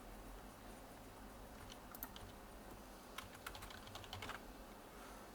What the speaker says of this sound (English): So let's just type Boris then.